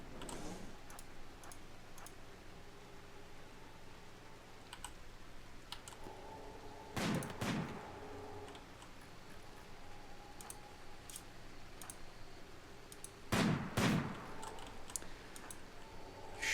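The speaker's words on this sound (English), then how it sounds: "Shooting through that obstacle is not working so well" Sniper-team gunfire in the video game Rimworld, shooting through an obstacle: sparse faint clicky shots over quiet game ambience, with two louder, fuller bursts standing out, and no talking.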